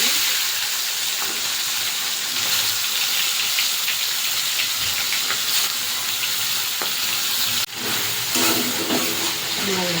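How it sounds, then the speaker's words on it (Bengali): Prawns coated in salt and turmeric sizzle and fry steadily in hot mustard oil in a wok, a dense, continuous crackling hiss with a few sharper pops, close and fairly loud throughout. "এবার এই নুন হলুদ মাখানো চিংড়ি মাছগুলো দিয়ে দেবো।"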